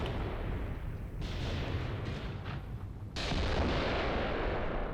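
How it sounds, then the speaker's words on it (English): Gunfire in the war game Graviteam Tactics, a dense continuous roar of shooting and distant booms with a sudden louder surge partway through, no voices. "Gun over there shooting at something."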